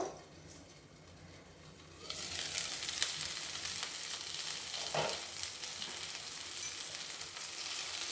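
Masala fish frying in a pan on a low flame, a quiet start giving way to a steady, bright sizzle with crackling bursts and a few stirring or turning sounds, close and continuous.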